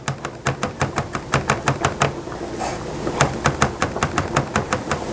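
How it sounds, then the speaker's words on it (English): Knife chopping on a cutting board in a home kitchen while making a meat casserole: a steady run of sharp, close taps, one brief pause near the middle, then more quick evenly spaced chops. "I just want to chop this up"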